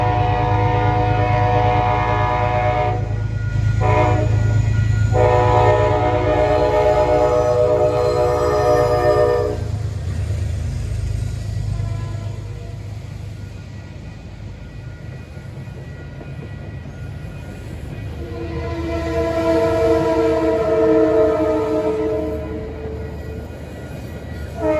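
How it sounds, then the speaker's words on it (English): Metro-North train 882 from Poughkeepsie to Grand Central passes outdoors in autumn. Its cab car horn sounds loud, long, chord-like blasts, then the train rumbles and rolls by, and a second horn blast comes later. "Here comes 882 from Poughkeepsie to Grand Central."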